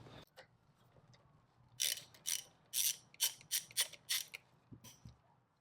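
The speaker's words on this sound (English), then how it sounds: "loosening up this top left valve cover bolt." Hand ratchet working a valve cover bolt loose on a GY6 scooter engine, a quick series of about ten sharp clicking strokes heard close and fairly quiet, with no talk during the clicks.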